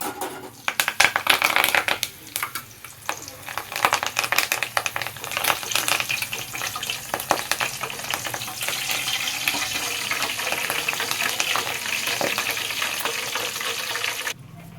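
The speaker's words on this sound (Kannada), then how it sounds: "ಈಗ ಕರಿಬೇವು ಹಾಕ್ಕೋತಾ ಇದ್ದೀನಿ" Curry leaves dropped into hot oil for a crunchy evening snack crackle and sizzle steadily and loudly, a dense continuous frying hiss with brief stirring scrapes, nearby and without voices.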